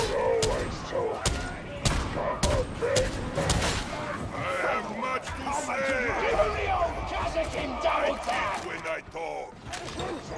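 Gunfire in a video game cracks in rapid, uneven bursts throughout, sharp and close, while someone talks over the shooting.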